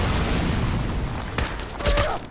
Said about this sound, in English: Now check out the sound of an exploding barrel.